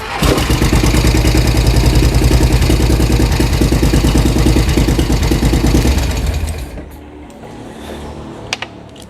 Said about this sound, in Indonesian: Suara kasar karena knalpot masih bocor, knalpot bocor.